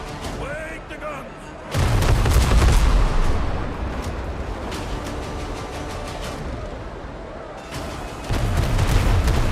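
Ship cannons fire in a pirate naval battle in the video game Windrose, heavy booming blasts rolling together with a dense rumble, loudest in two bursts at the start and end, with voices mixed in.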